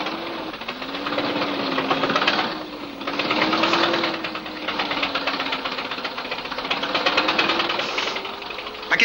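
A car engine runs steadily on a mechanic's bench, a continuous mechanical drone with a wavering pitch and rhythmic knocking texture, loud and close, with no talk over it.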